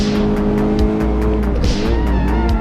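Rally car engine in the racing game Assetto Corsa Rally, revving hard with rising and falling pitch as gears shift, plus brief tire squeal and skidding, loud and continuous with no talking.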